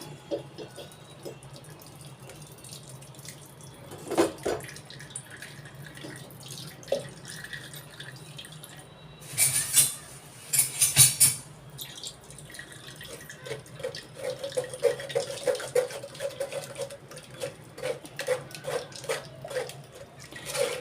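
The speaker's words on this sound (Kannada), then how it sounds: "ಸೌತೆಕಾಯಿನ ಈ ರೀತಿ ರುಬ್ಕೊಂಡಿದ್ದೀವಿ ಇದನ್ನು ಸೋಸ್ಕೊಂಡ್ಬಿಡೋಣ" Ground cucumber paste for a spicy cucumber snack is strained by hand, with intermittent trickles, drips and short splashing bursts of liquid heard up close, louder in the middle.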